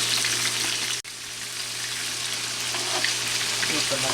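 Shrimp al ajillo frying steadily in a hot pan, a continuous close sizzle with a brief cut near the start, then unbroken frying to the end.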